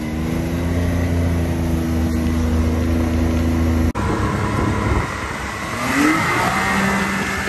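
A car passes close by on a road with speed bumps, its engine hum rising and shifting as it goes past, heard from inside another vehicle with no talking over it.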